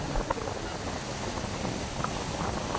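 Strong, steady typhoon wind roars and buffets the microphone, with rough sea water churning underneath, continuous and loud throughout.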